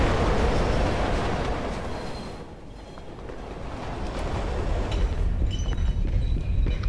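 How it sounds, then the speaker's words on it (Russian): In the video game Condemned: Criminal Origins, a train rumbles past as a dense, loud roar that dips slightly midway and then swells again, with no voices over it. "Ух, поезд какой-то начал."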